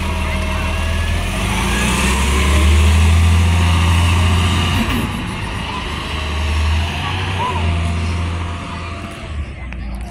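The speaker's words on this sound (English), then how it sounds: "The engine is a Cummins ISLG. It sounds like an L9." A bus with a Cummins ISLG engine runs close by, a steady low rumble that swells and eases with the load, with continuous background noise throughout.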